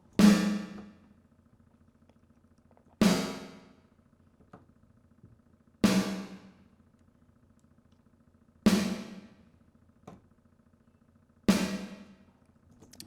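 Five sharp drum hits, evenly spaced about three seconds apart, each followed by a short, tinny, metallic-sounding reverb tail over a faint low hum.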